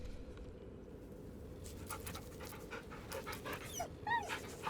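A dog in the video game Baldur's Gate 3 pants happily in soft, rhythmic breaths over a low background hum, with a few faint whimpering tones near the end.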